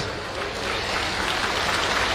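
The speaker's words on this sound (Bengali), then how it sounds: "একটু জোরে উষ্ণ করতালি হোক।" Audience applause at a government welfare-scheme event where student credit cards are being handed out: a dense, steady patter of clapping that holds at an even level for about two seconds, with no voices over it.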